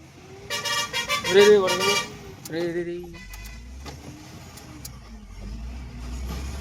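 A car engine on a road trip turns over and rumbles low for a few seconds, preceded by a short horn-like tone and people talking nearby.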